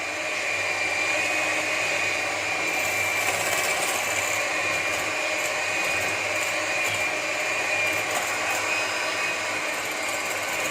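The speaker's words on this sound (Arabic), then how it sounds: "نبدا نطرب. خصنا نطربوه بلا ما نحبسو." An electric mixer beats sponge cake batter in a home kitchen, a steady close whirring drone running continuously without pause.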